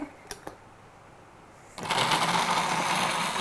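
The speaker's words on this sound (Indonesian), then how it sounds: "Nah, ini kita blender" A kitchen blender starts up abruptly partway through, loud and close, steadily whirring as it purées bread soaked in milk for a soft pudding, after a quiet stretch with a couple of small clicks.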